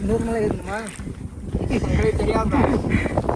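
Strong wind gusting across a hilltop, roaring and buffeting the microphone throughout while voices talk over it.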